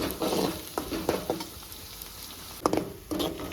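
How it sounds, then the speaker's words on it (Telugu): Bitter gourd curry seasoning sizzles in a pan while a utensil stirs and scrapes, producing scattered clinks over a soft frying hiss, fairly quiet. "ఇప్పుడు మంచిగా ఫ్రై చేసుకోవాలి"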